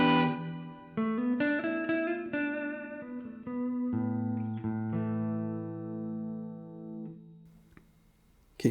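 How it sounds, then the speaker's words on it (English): Guitar chords and single notes through a Donner Yellow Fall 2 pedal set to room reverb, each note ringing with a shorter ambient tail, ending in a gradual fade and a faint click. "Go to a room reverb."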